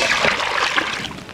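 Water poured into a cooking pot while preparing chicken sajta outdoors in the countryside, a close, continuous splashing trickle that stays loud and alone for a moment.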